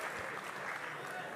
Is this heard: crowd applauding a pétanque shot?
yes